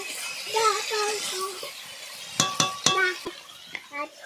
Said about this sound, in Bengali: এখানে মোটামুটি সমস্ত মশলা দিয়ে আর হালকা ঘি দিয়ে আর কষা চলছে